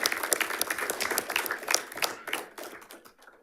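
A school board meeting audience applauds a girls' track team that won the league championship, with dense clapping close by that holds steady for about three seconds before fading.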